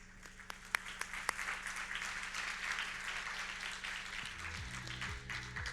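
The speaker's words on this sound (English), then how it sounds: "a round of applause for the startups" A summit audience applauds startups with a steady, moderately loud wash of clapping that opens with a few sharp individual claps and carries on for several seconds, with a low hum and faint voices underneath.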